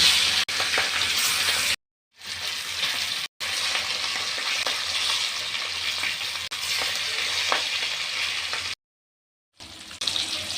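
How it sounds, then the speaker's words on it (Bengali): Grass carp pieces fry in a pan of hot oil, a loud, close, continuous crackling sizzle broken by a few sudden silent gaps, with faint scrapes as the fish is turned. "মাছ ভাজার এক পিঠ হয়ে গেছে আমি আরেক পিঠ উল্টে দেব"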